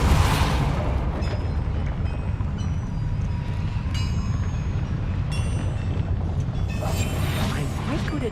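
Depulso force spell in Hogwarts Legacy, a steady rumbling, whooshing blast of game magic with bright crackling shimmer layered over a dense continuous roar.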